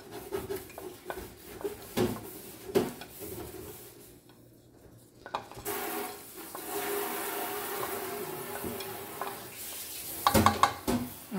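Bacon fries in a pan with sausage and cabbage, an uneven sizzle with clattering cookware and spoon knocks, dipping briefly quieter midway before the crackle swells again.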